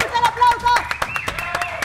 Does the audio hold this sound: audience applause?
yes